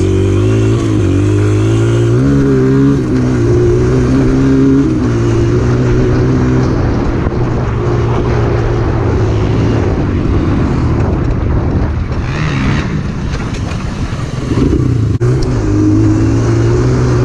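Dirt bike engines run and rev continuously and loudly, the pitch rising and falling with throttle changes throughout.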